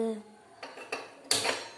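An aluminium frying pan is set down and shifted on a stove, giving three quick clanks, the last one louder and ringing briefly.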